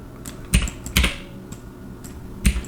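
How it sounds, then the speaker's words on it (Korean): Keys on a computer keyboard being pressed during 3D software work: a handful of separate clicky taps spaced apart, close and distinct against a low room hum. "S 누르시고 T 눌러서 움직일게요"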